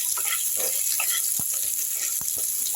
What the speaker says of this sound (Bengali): এবার আমি ওই তেলের মধ্যে একটু পেঁয়াজ কুচি দিয়ে দিচ্ছি